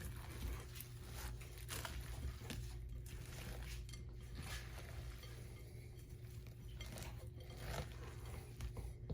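Beef meatball mixture is worked by hand in a bowl, a faint, steady squishing and patting with light scrapes, low and continuous under a constant background hum.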